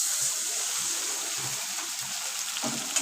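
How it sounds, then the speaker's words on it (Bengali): A small splash of water goes into cumin powder spice mix in a pan, a soft close trickle with a few light bubbly patters over a steady background hiss, brief and quiet, no talking. "হাফ চামচ জিরের গুঁড়ো, সামান্য একটু জল দিয়ে দিলাম"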